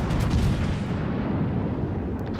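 A battleship in World of Warships fires a full broadside, heard as a heavy rumbling roar of blasts that fills the moment and slowly fades.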